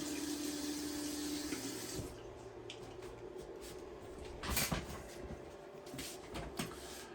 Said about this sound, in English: Wash the brush again.